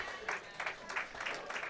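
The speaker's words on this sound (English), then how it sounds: "You could hear the crowd reaction was the same as mine." At a Unified Bowling Class A Championship, a crowd reacts to a missed spare with a short burst of scattered clapping and murmuring that rises and falls in quick pulses.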